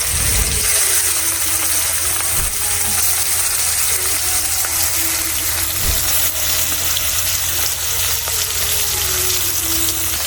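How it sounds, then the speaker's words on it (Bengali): Rohu fish sizzling steadily in hot oil in a wok, a continuous close crackling hiss with a few soft clicks of the pan, no talk. "আমি তো কড়াইয়ে তেল গরম হওয়ার পরে মাছগুলা দিয়ে দিচ্ছি ভাজার জন্য"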